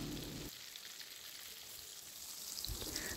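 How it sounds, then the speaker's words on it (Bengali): Brinjal pieces fry in oil over a high gas flame, giving a soft, even sizzling hiss that stays faint and steady throughout, with a low rumble at the start and end. "তো গ্যাসের ফ্লেমটা হাই করে দিয়ে আমরা বেগুনগুলো উল্টে পাল্টে লাল করে ভেজে নেব"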